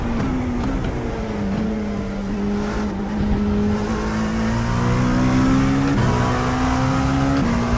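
Race car engine in the iRacing sim at the Le Mans 6-hour endurance event, a steady loud drone whose pitch slowly climbs and dips with brief upshift steps, continuous for several seconds with no talking.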